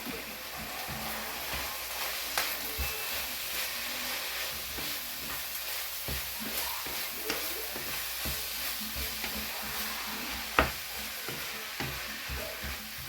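A filling seasoned with pepper and paprika is stirred in a hot pan, giving a steady close sizzle and frying hiss broken by occasional scraping strokes and taps of the utensil.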